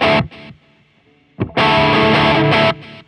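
Electric guitar played through a Fat Blob Suprême pedal with delay and reverb: two loud, distorted strummed bursts with a quieter delayed tail and echo between them, no talking.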